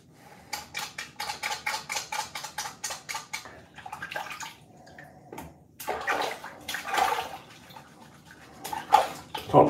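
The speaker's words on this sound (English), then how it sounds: "Look, I'm washing my arse with soap." Running water and washing in a sink with soap: rhythmic splashing scrubs repeat steadily, then give way to irregular louder splashes and clatters, close by with no talking.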